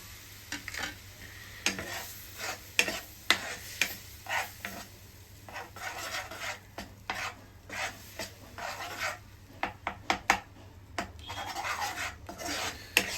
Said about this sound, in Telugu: కలుపుతూ ఉండాలి